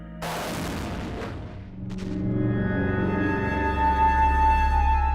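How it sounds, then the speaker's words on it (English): A crash-test sled fires with a sharp, loud boom and rushing blast, then a sustained low roar and ringing tonal hum that builds over several seconds, with no talking. "Now, our second sled is ready to fire."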